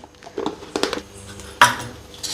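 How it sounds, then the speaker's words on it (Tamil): Mustard seeds dropped into hot oil in a pan, giving light clinking and scattered crackling with a sharp metallic clatter near the end, close and fairly loud, with no talking. "இப்போ கொஞ்சமாக கடுகு சேர்த்துக்கலாம்."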